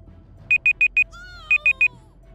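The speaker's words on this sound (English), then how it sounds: "Now, an alarm could just go off right now." A countdown timer alarm goes off with a fast run of four loud, clean electronic beeps, a short warbling tone, then three more beeps, all close and alone.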